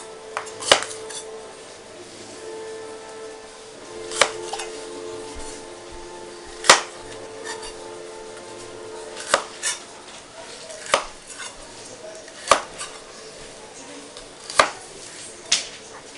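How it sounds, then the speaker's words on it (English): A knife slices peppers into strips on a cutting board, sharp separate chops landing every second or two against a quiet kitchen background, fairly close. "now we can start slicing up our peppers"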